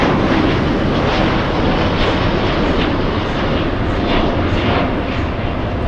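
A continuous, loud roar of a jet airliner at LAX airport, steady and broadband throughout, with no voices.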